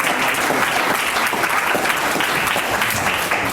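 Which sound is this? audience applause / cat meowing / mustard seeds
audience applause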